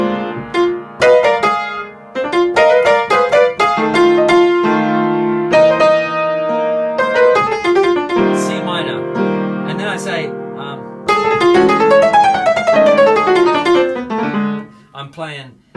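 Piano chords ring out in a bluesy progression, struck one after another with sustained notes and quick runs, loud and close, no talking.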